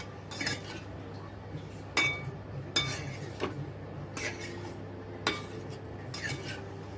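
A metal spoon stirs semolina, sugar and ghee in a pan for mango sheera, making sharp clinks against the pan every second or so over a low steady hum, heard close and fairly quiet.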